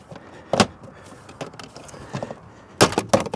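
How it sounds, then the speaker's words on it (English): Plastic trim clips snapping loose beneath the steering column of a Nissan Rogue, a few sharp close pops and cracks separated by softer handling rustles. "we're gonna pop down the plastic clips that are all along under the steering"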